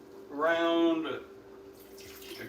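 Water is poured into a cooking pot, a short hissing splash that follows a brief spoken phrase and stays fairly quiet.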